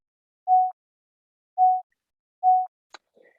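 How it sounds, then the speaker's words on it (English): Synthesized tones generated in MATLAB to sonify three-dimensional cellular automata: three short, identical steady beeps spaced about a second apart in silence, followed by a brief click and a faint blip. "we have prepared wave files were created in MATLAB like this."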